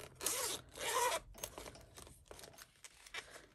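Zippers are worked on the pockets of a unicorn bag, close up and fairly quiet. Two longer zipping pulls are followed by scattered smaller rasps and handling clicks, with no talking.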